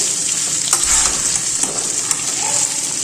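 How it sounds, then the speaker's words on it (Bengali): Potatoes fry in a pan with a strong, continuous sizzle close by, with occasional soft scrapes and taps as they are turned. "একটু আলু ভাজাটা আগে করা হয়ে যাক, তারপর লবণ হলুদ দিব।"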